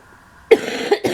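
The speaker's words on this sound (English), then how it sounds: "Excuse me for coughing." Two harsh coughs close to the mic, a sharp first burst followed by a second a half-second later, after near silence.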